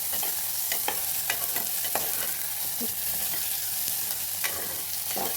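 Chopped onions and green chillies frying in oil in a pan for a millet pulao, a steady broadband sizzle with scattered crackles and occasional stirring scrapes, close and continuous, no talking.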